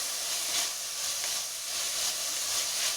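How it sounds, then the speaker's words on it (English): Onions sauté in a hot pan, giving a steady, even sizzle and hiss that carries on throughout with slight swells and no voices. "So you saute the onions."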